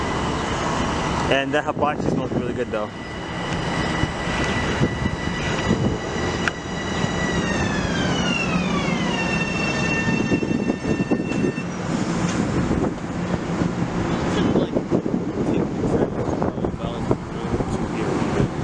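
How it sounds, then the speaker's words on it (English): A train rumbles past with a steady roar and a long metallic squeal that glides downward, while people chat over the noise up close. "Here's our last train of the day."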